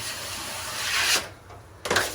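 A trowel drags joint compound across a wall being restored after wallpaper removal: a long raspy scrape, a short pause, then a second, sharper swipe close by.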